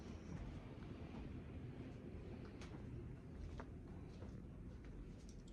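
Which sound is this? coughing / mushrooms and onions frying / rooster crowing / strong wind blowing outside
strong wind blowing outside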